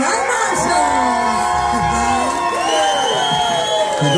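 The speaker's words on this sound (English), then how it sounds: "Give these guys a big, huge round of applause." A crowd in a bar at a music awards night cheers and whoops for the winning country band, with loud sustained shouting and a voice over the PA.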